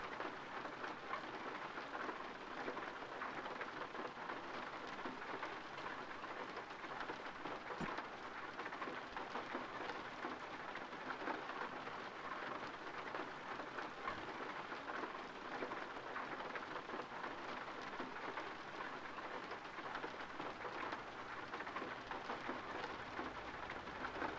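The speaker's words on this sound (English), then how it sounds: "Oh, it's raining again." Steady rain falls throughout a night drive in Euro Truck Simulator 2, a continuous dense hiss with occasional faint low rumbles, heard alone without voices.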